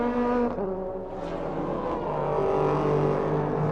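A Porsche flat-six race car engine at the 1997 Le Mans 24 Hours howls with a shifting pitch as it drops and climbs through revs, loud and continuous, with a rising whine toward the end.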